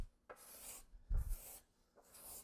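Card scraper pushed across wood in three slow, even strokes, each a breathy rasping scrape with a low thump at the start, close and quiet with no voices.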